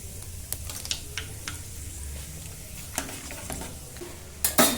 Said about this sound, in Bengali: ভালো করে নেড়ে চেড়ে নেব শুকনো লঙ্কাগুলোকে।